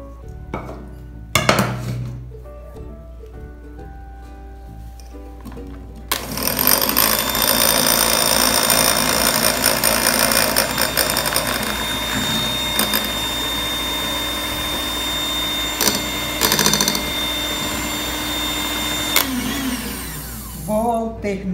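Electric mixer beating coconut cake batter as sugar and sifted flour go in: a loud, steady motor whir with rattling against the bowl, preceded by a few knocks and clinks, then running continuously with brief bumps.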